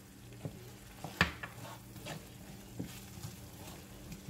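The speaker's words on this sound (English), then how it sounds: "I got my onions in there with the butter." Onions frying in butter with celery seeds in a pan, a soft steady sizzle running throughout with a few faint stirring knocks and scrapes.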